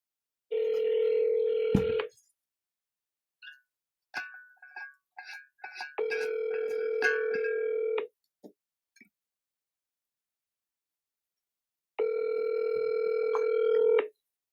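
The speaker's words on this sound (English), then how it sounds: "I'm just going to go ahead and dial the next one." Phone line during a cold call, with three spells of steady ringback tone about two seconds each and a burst of rapid keypad dialing beeps between the first two.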